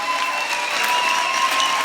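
Brief burst of crowd applause at an outdoor vegan festival stage, a steady wash of many hands clapping at moderate loudness with a faint tonal hum behind it.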